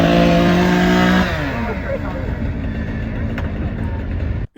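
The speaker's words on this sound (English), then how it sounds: "You pull out a chainsaw and you rev that engine." A chainsaw engine revs hard at a loud, steady high pitch, then drops back to a rougher, lower idle that runs on before cutting off abruptly.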